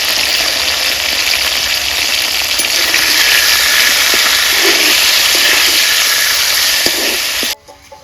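Chicken frying with salt, turmeric and ground ginger in a pan gives a loud, steady broadband sizzle that holds nearly unbroken for about seven and a half seconds, then cuts off abruptly.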